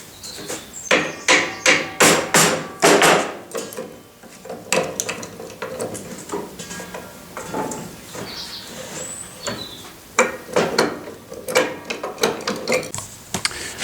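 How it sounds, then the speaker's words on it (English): A hammer taps repeatedly on a bolt holding the blade of a Grey Fergie saw bench, sharp close metallic strikes in quick bursts with brief pauses between rounds of blows. "I'm just going to tap that off now"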